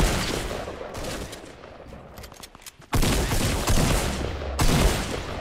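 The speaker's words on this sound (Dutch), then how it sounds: "ik hoor nog meer schoten" Rapid bursts of gunfire in Fortnite Battle Royale crackle continuously, dropping quieter for a moment before a louder volley of shots resumes nearby, with no talking.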